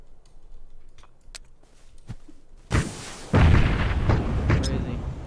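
A frag grenade going off in a squad-based shooter game, a sharp crack followed moments later by a loud, sustained booming blast that rumbles on for a couple of seconds.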